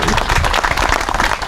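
A crowd gives a round of applause for the county executive at a community event, a brief burst of dense, lively clapping throughout.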